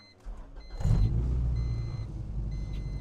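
A 1999 Honda Civic Si with a stage 2 camshaft idles with a steady low, loping rumble that starts after a brief quiet moment and continues close and even.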